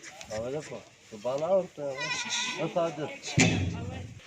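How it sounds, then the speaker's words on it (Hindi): Goats being loaded one by one onto a cargo vehicle at a goat farm bleat repeatedly in wavering cries, close and fairly loud, followed by a thud at the end, with someone talking alongside. "ये 8 नंबर बकरी जा रही है।"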